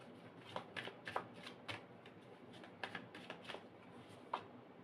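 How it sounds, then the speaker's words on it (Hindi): Tarot cards shuffled and drawn by hand up close, giving soft, quiet riffling and flicking in irregular bursts, with faint speech in the background. "ओके, एक कार्ड और ले लेती हूँ, 2 ऑफ सोर्ड्स।"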